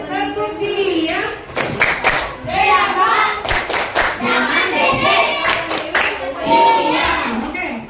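A primary school class of children performs the rhythmic tepuk diam clapping routine, with bursts of loud, fast claps in steady patterns mixed with children's voices chanting along in a classroom.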